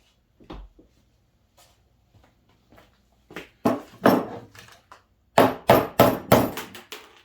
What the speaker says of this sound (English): Just going to hammer on that.